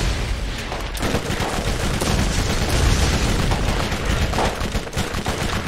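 Continuous gunfire from the video game Borderlands, dense rapid shots and booming blasts overlapping loudly for several seconds, with a sharp burst near the start and steady chaotic firing throughout.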